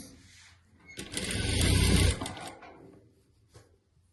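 A sewing machine runs a short burst of stitching along the third side of a patchwork piece, a loud rattling whir of about a second that rises and then stops, with quieter handling noise before and after.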